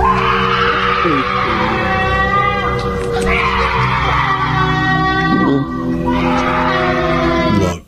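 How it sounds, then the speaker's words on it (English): Screams from the woods, said to come from a mountain lion, rise and fall in shrill drawn-out wails over a steady noisy background, repeating several times. "many have said that these sounds are coming from a mountain lion"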